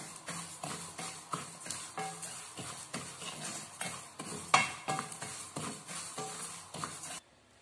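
Sesame seeds are roasted and stirred in a pan with quick, regular scraping strokes about twice a second, each a light rasp, which stop abruptly near the end.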